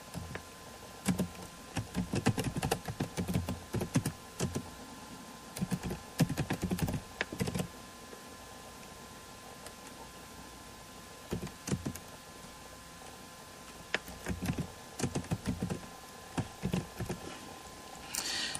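Code is typed on a computer keyboard in a quiet room, with uneven bursts of close key clicks and short pauses between runs of typing.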